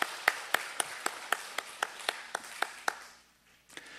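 Sharp, evenly spaced claps ring out in a church worship service as the congregation welcomes two new members, about a dozen beats in a steady rhythm, fairly close, before they fade into quiet near the end.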